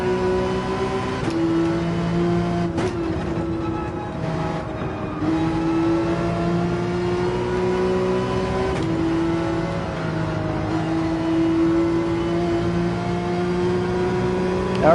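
Porsche 911 engine held at full throttle in Gran Turismo 7, a steady high-pitched racing drone with a few brief shift breaks, continuous and close for the whole stretch.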